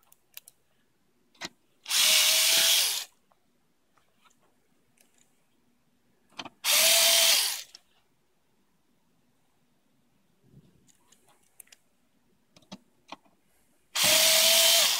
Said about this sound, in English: we can go ahead and put in our original screws that are the countersunk screws into these four holes